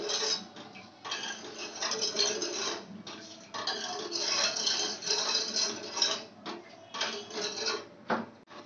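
Sugar syrup being stirred in a pan on the stove until it boils, made for shop-style boondi: steady scraping and clinking of a utensil against metal, close and fairly quiet, in continuous bursts with brief pauses.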